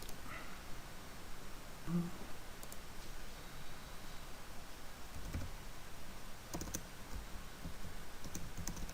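Typing on a QWERTY computer keyboard runs throughout at close range, with irregular soft key clicks and occasional louder taps over a steady background hiss.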